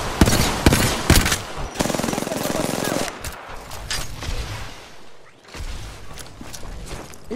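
Bursts of automatic weapon fire during an Apex Legends fight, several loud rapid volleys in the first few seconds, then quieter game noise and further shots, with a voice talking at times.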